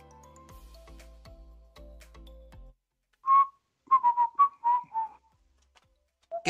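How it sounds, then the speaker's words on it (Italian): A person whistles a short tune during an iPhone 7 Plus repair, heard as several clear, close melodic notes in quick succession after a stretch of quieter background tones. "Che fai? Te la fischietti?"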